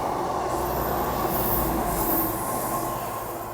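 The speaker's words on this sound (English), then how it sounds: "I'm surprised at how many trains actually come past here" A train rumbles past steadily in Teignmouth, Devon, its wheels and cars producing a continuous loud roar with high metallic squeals drifting in and out.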